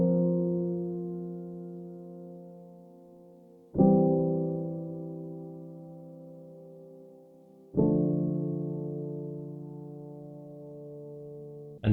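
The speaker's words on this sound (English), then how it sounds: "So the actual piano chord progression sounds like this." Slow piano chords for a sleepy lo-fi beat made in FL Studio, struck about every four seconds and left to ring and fade, soft and alone.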